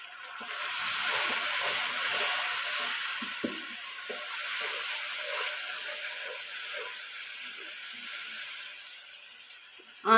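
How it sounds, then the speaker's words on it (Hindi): Spices sizzle steadily in a hot pan with tomatoes for a potato and peas curry, giving a continuous close frying hiss with soft crackles and light stirring throughout. "मसाले को अच्छी तरह हम लोगों ने भूनना है"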